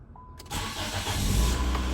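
A used car's engine cranks briefly and catches, then settles into a loud, steady idle close by, with a low rumble that grows slightly stronger toward the end.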